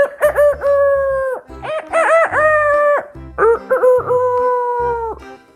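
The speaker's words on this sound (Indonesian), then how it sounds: "Suara ayam jago bersahut-sahutan berkokok di pagi itu." Several roosters crowing in close succession, loud and near, their calls overlapping and answering each other.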